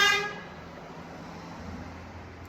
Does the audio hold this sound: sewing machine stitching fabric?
no